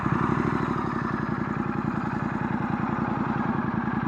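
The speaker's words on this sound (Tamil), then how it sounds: "ஆப்வியஸ்லி எக்ஸாஸ்ட் நோட்டு கேட்டுடலாம்" Royal Enfield Continental GT 650 with an inline two-cylinder engine idles steadily up close, a rapid even exhaust pulse with a low throbbing beat and no talk over it.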